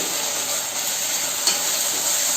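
Turmeric and ginger-garlic paste sizzle in a pan for paneer do pyaza, a constant bright hiss with one faint tap of a utensil near the middle and no talking.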